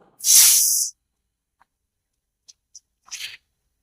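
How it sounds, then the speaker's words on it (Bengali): Prawns dropped into hot mustard oil for a gourd and prawn curry give a loud hissing sizzle up front that soon cuts off, followed by a few faint crackles and a short second burst of sizzle. "তেল তো গরম হয়ে গেছে, এরপর চিংড়ি মাছগুলোকে আমি ভেজে নেব।"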